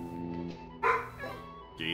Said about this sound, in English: There's a barking doggo.